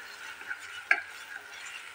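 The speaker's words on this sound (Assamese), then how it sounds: "গোটেই মছলাখিনি মই এয়া ভালদৰে ভাজি ল'লোঁ" Spice masala frying in a pan for a soybean curry, heard as a quiet, even sizzle with a single sharp utensil tap midway, no voices.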